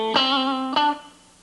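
Two distorted chords ring out on an electric guitar with the pickup selector moved up one position. They come about half a second apart, and the second decays into quiet. No voice is heard.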